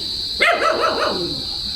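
A single dog bark with a wavering, yelping tail, fairly close, over a constant high-pitched background hum at a campsite.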